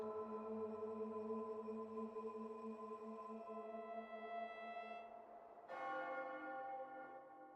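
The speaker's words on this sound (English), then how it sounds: "Oh yeah, and the bell tower," A church bell tower sound effect from the game Resident Evil 4: one long, ringing toll slowly decays for five seconds before a second strike rings out and sustains, with no voices.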